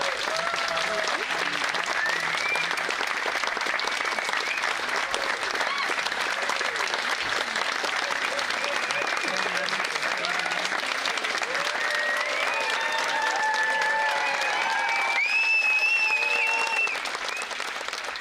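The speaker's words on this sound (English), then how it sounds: "And everyone give her a huge round of applause." Audience at a 2021 Adventist academy commencement ceremony gives sustained applause, a steady wash of clapping across the room with occasional cheers and whoops rising near the end.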